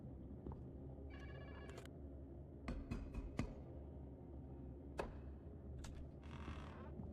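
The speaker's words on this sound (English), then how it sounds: "Phone sounds pretty creepy." An eerie telephone ring in a horror video game, sounding as irregular bursts of tonal, bell-like trills with sharp clicks and creaks between them, faint against a low droning background.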